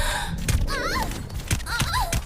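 Japanese-language voice lines of the Widowmaker character from the video game Overwatch 2 play as breathy, gasping vocal sounds with a few soft thumps, close and mid-loud.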